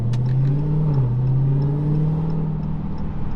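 A heavy Dodge Hellcat's engine drones steadily at close range, pitch dipping briefly then climbing as it accelerates, loud and continuous with no talking.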